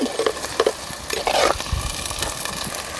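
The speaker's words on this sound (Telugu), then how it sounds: "ఇవి వేగని కాసేపు బీన్స్ అయితే వేగాయండి" Beans fry in hot oil in a clay pot over a wood-fired stove outdoors, with a steady sizzle broken by several sharp stirring scrapes and clinks, close and without talk.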